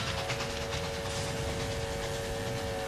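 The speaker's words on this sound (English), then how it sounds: "A packed train speeds on its way south, ready to replenish the Union Army with fresh troops and supplies." A packed Civil War-era train carrying Union troops and supplies speeds south along the rails, a steady loud rumbling roar with hiss and a faint rhythmic clatter throughout, no voices.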